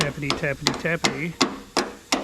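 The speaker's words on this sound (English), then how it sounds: "Take your hammer and tappity" A hammer taps a door hinge pin on an 82-92 Camaro, about eight sharp metallic strikes in uneven rhythm, close and loud, with a voice talking between the first blows.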